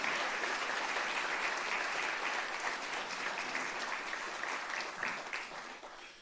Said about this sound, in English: How about another big round of applause for all of our honorees